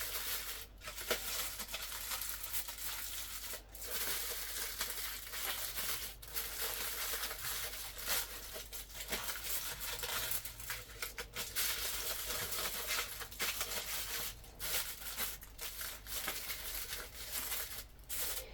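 Baking paper is laid onto a metal baking tray in a home kitchen, giving close, repeated crinkling and rustling with sharp crackles between softer handling.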